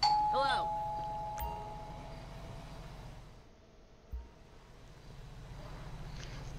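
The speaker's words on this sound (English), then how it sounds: "Gonna ring the bell." A doorbell in the video game GTA V rings a bright two-tone chime at the start, then fades out over a steady low street and engine rumble with light background noise.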